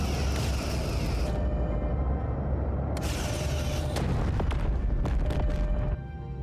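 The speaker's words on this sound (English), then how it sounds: "Open fire on the Kazon." Starship weapons firing on Kazon ships in the Star Trek Voyager strategy game, loud booming bursts and crackling energy blasts rolling over a constant heavy rumble, with sharp impacts clustered in the middle.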